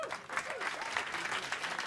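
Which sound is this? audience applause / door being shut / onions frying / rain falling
audience applause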